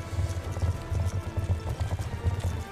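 A horse gallops in the Call of Duty Black Ops 2 campaign, its hooves drumming in a fast, steady rhythm at close range, with game sound behind.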